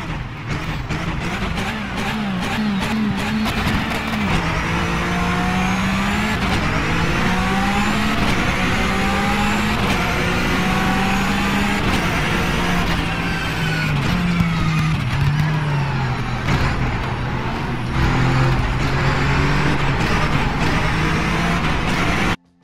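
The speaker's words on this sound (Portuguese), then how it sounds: "Porsche 991 GT3 de GT3 World Series." A Porsche 991 GT3 flat-six engine in a GT3 sim racing game, loud and continuous, revving up and down through gear changes with a sustained racing howl and no talking.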